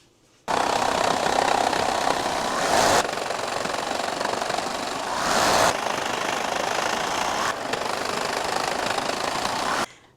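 A sewing machine stitching the corners of a beach towel zipper pouch runs in a loud, steady mechanical whir in three continuous bursts separated by brief pauses.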